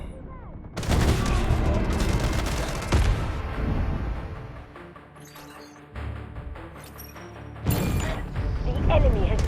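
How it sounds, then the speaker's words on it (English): Artillery barrage explosions in the shooter game Delta Force Mobile, a dense, loud rumble of blasts and gunfire with heavy booms at the start, near three seconds and again near eight seconds, continuing over about nine seconds. "Artillery barrage incoming."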